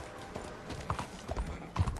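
Horse hooves clip-clop on the ground in Red Dead Redemption 2, a quick, uneven series of close hoofbeats over a soft background hum, with no talking.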